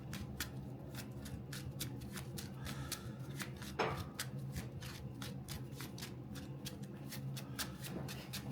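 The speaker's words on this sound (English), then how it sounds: "I'm going to give it a quick shuffle." Cards are shuffled in a steady rapid riffle, close and fairly quiet, with a soft flutter of snapping edges throughout.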